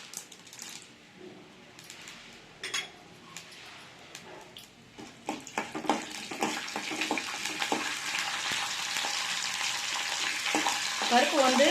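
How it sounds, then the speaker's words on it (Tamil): Urad dal and chana dal fry in hot oil with a soft sizzle that swells into a louder, steady crackle, broken by occasional stirring clinks near the start. "உளுத்தம்பருப்பு சேர்க்குறேன். கொஞ்சமாக கடலைப்பருப்பு சேர்த்துக்கிறேன்."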